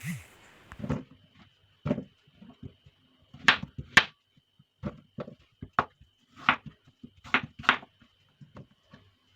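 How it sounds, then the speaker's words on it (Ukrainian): A knife cuts pumpkin into cubes on a board, a series of crisp, close chopping knocks coming in uneven pairs and singles with quiet gaps between them. "Спочатку нарізаю гарбуз на такі кубики."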